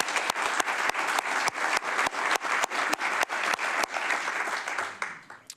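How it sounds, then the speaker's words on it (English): Steady applause from an audience at a county government address, many hands clapping in a dense continuous wash with a few sharp close claps standing out, tapering off at the end. "I think that deserves an additional round of applause."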